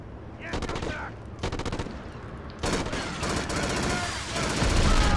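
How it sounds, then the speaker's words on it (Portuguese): Gunfire in the PS2 shooter Black: rapid automatic bursts and machine-gun volleys crackle loud and close in several stretches, separated by brief lulls, with heavier continuous firing building toward the end. "Nossa, tá vindo tiro, hein? Tá tendo tiro, hein?"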